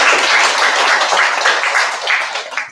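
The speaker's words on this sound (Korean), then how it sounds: "오늘 또 승리할 수 있도록 다 같이 격려의 박수 한번 부탁드리겠습니다." A congregation at a church entrance ceremony gives a dense, steady burst of encouraging applause, loud and close, fading out near the end.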